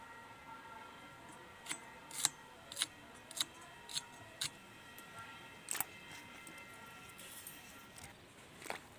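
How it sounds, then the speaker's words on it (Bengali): Water lily (shapla) stems are chopped into small pieces, making about ten crisp, faint snipping clicks in an uneven rhythm over a low, quiet room background. "এবারে আমি এরকম ছোট ছোট পিস করে কেটে নেব"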